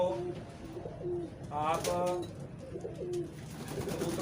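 Pigeons coo in soft, repeated low calls at close range, with a brief burst of throatier cooing near the middle and a person speaking briefly over them.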